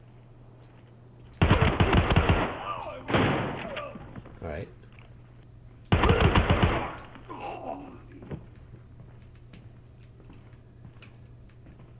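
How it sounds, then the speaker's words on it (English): Bursts of video game gunfire played through AirPods Pro 3 earbuds, two loud dense volleys with quieter shots between them, and a voice speaking briefly in between. "Ooh, okay, there's shooting happening."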